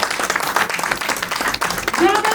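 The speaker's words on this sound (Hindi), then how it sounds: "इनका सम्मान तालियों के साथ" Audience applause for an award honoree at a conference ceremony, a dense round of clapping that swells and continues steadily, with a voice speaking over it near the end.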